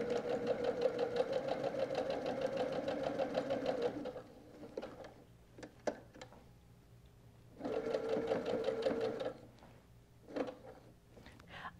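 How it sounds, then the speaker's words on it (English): A sewing machine stitches quilt fabric for quarter square triangle towels in two steady whirring runs, the first about four seconds and the second shorter, with soft clicks and handling noises in the quiet pause between them. "I've got it under my needle and I'm ready to sew."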